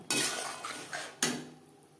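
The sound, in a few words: mixing eggplant into fried spices in a pan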